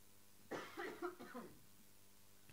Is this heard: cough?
yes